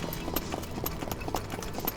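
Hooves of a yearling filly clip-clop in a quick, steady rhythm of close, distinct thuds over a low background rumble.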